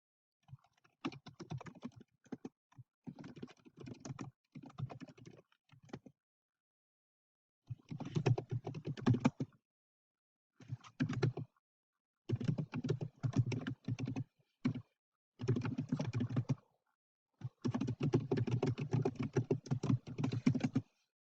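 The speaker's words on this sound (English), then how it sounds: "So I'm just going to go ahead and really quickly type these out." Quick typing on a computer keyboard, close and clear, in bursts of rapid key clicks separated by short pauses, with no voices over it.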